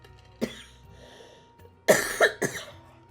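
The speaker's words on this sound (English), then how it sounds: "Sorry if I end up coughing a bunch during the stream." A single person coughs, with one sharp cough followed after a pause by a quick burst of three close, loud coughs.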